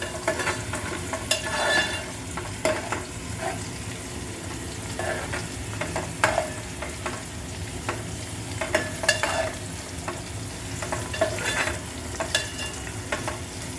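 Onions frying over a medium flame in a pan while being stirred, steady sizzling with repeated scraping strokes of the spoon throughout, close and fairly loud, no talking.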